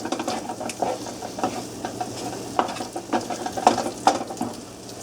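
Shrimp and oyster juice stirred in a pan for oysters Bienville, a moderate simmering sizzle broken by repeated soft scrapes and knocks of a utensil against the pan, no talking.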